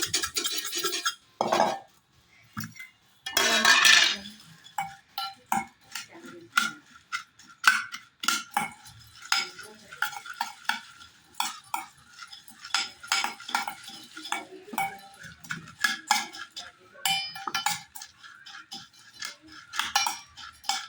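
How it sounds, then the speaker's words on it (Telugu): Evening snack ingredients, including tomato, mixed by hand in a bowl, heard as irregular clinks, taps and scrapes of utensil against the bowl, close and uneven, with a brief louder rustle early on. "బాగా కలుపుకుంటున్నా."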